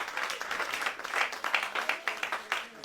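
Church congregation applauding together, a dense patter of clapping with rhythmic swells, fairly close and steady throughout, with faint voices mixed in.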